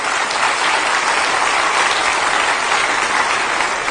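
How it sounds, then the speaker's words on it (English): A summit audience in Dakar, Senegal bursts into steady, dense applause that holds at an even, loud level throughout with no voices over it. "Can we give a wonderful round of applause for these distinguished persons?"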